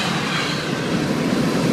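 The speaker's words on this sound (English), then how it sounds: "Keeping pace with the Pacer Stack Train." A Pacer Stack Train freight train rolls past close by on farmland rail, a steady, loud wash of wheel rumble and clatter at about 68 mph with no pauses.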